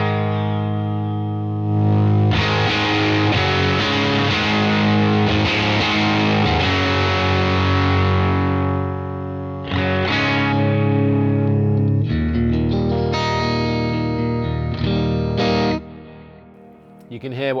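Electric guitar played through a UAFX Enigmatic '82 Overdrive Special pedal with the master gain turned up, giving loud, sustained overdriven chords that ring out, break briefly near the middle, then resume and fade at the end.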